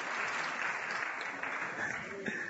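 Steady applause from a church congregation, a dense continuous wash of clapping at moderate distance throughout, with faint voices mixed in.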